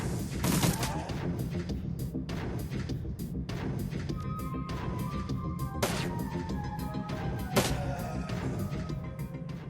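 Full-auto AK rifle fire in the Shadowrun: Dragonfall video game comes as rapid bursts of sharp shots over a dense layer of game noise, with a couple of louder cracks standing out.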